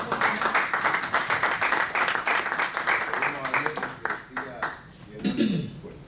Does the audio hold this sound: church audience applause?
yes